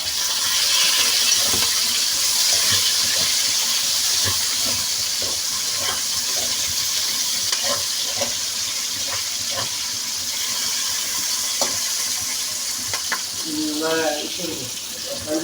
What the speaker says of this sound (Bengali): জিরাটা হয়ে এসছে, এখন আমি এখানে দিয়ে দিচ্ছি পেঁয়াজ।